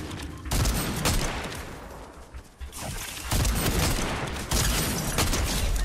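Repeated pump shotgun blasts in Fortnite, fired in quick double shots with loud booming bursts across the clip and a brief lull near the middle.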